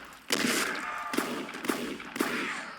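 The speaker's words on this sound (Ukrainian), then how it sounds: "Два вистріла!" Gunfire in the Roblox game Dead Rails sounds as a few sharp, close shots in quick succession over a continuous game background hum, without talking.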